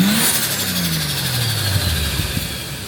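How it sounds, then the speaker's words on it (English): Turbocharged Ford Barra straight-six engine in a Japanese-built car revving hard, a deep rising and falling roar with a high turbo whistle sweeping above it, loud and close. "Give me a little turbo noise."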